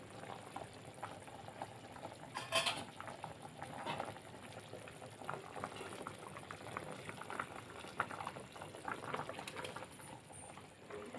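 Egg curry gravy bubbles steadily in a pan, a continuous close simmering burble with soft pops and fizzing, no voices over it.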